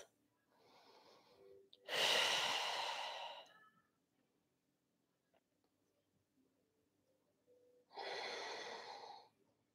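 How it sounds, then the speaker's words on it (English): Deep belly breathing during a yoga session, with two long, loud breath bursts a few seconds apart, the first preceded by a softer inhale, close and unaccompanied by talk. "Belly breaths."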